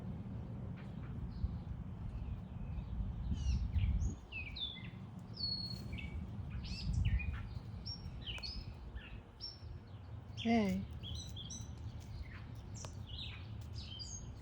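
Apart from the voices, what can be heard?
angry bird calling from a tree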